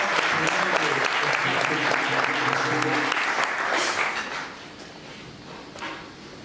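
An audience at a French-language awards ceremony bursts into applause, loud dense clapping with some voices, then thinning and fading to scattered claps after about four seconds.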